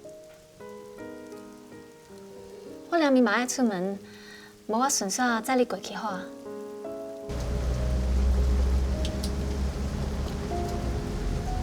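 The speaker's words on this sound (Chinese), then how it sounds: "外口开始落大雨啊！" Heavy rain pours down outside, a dense, steady roar that starts abruptly partway through and continues loud to the end, following a stretch of people talking over background music.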